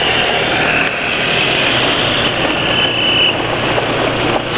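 Two-stroke motorcycle engine running on Meditran SX oil, a continuous close idle with a smooth buzzing drone and a faint high whine, steady and loud throughout with no talking.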